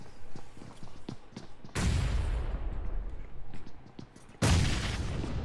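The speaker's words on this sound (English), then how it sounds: "He's got some preemptive nades to throw out." Two heavy explosive blasts from thrown grenades in a video game, each a sudden loud boom with a long rumbling decay, set among scattered sharp gunshot cracks and footstep-like taps.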